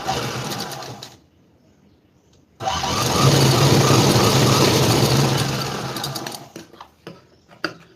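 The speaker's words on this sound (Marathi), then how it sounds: "परत एक बाहेरच्या बाजूला शिलाई मारून घ्यायची." An electric sewing machine runs a steady stitching burst on fabric, sewing a seam along the outer side; a few seconds of near silence come first, then the continuous whirring run, which trails off into light handling clicks.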